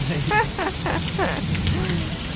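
A heavy downpour in Kalavad roars as a constant wash of rain, with a few voices talking over it.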